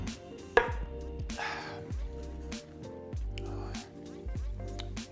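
BBQ chicken pizza being sliced with a pizza cutter or butcher knife, a series of crunchy crust cuts and squishy presses repeating through the clip over steady low background music.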